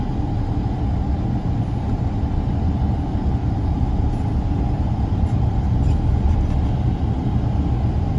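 A Peugeot 2008 car's engine and road noise form a steady, loud low rumble from inside the cabin, unbroken and constant with no talk.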